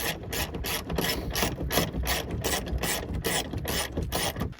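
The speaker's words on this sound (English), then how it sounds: "Now we can go ahead and pull off the bolts that mount the roll bar to the windshield frame." Rapid ratchet clicking as a wrench backs out the bolts holding a Jeep Wrangler YJ roll bar to its windshield frame, a steady close run of pawl clicks in quick strokes with no talk.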